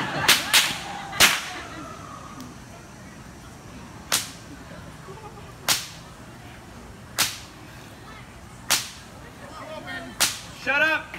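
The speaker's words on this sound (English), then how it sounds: "I will try to whip the cap off without spilling the water" A whip cracks sharply about a dozen times at uneven intervals, aimed at knocking the cap off a water bottle, each snap loud and close, with quiet background between the cracks.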